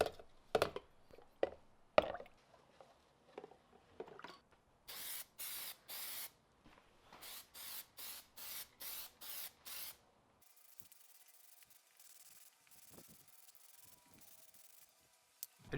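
Plasti Dip aerosol can spraying onto car emblems in repeated short hissing bursts of about a second each, with a few light clicks and handling knocks around them, fairly close and with no talking.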